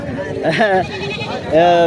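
A large goat bleats up close at a livestock market before Eid al-Adha, a wavering cry early on and another near the end, amid people talking nearby.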